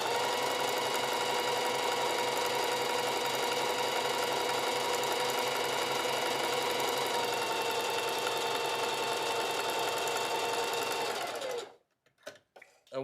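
A sewing machine runs continuously at a steady speed, stitching a straight line through brown fabric with a dense mechanical whir, then stops abruptly near the end, leaving a few faint clicks.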